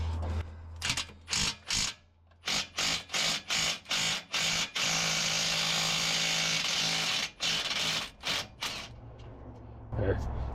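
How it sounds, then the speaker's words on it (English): An impact wrench hammers at a rusty exhaust fitting on a 1990 Ford L9000 Louisville truck with a CAT 3406B engine: a series of short rattling bursts, then one long sustained run and a few more bursts, close by with voices at times. "it's better to use an impact, because it'll actually break up the rust and crust inside."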